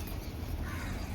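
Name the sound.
crows cawing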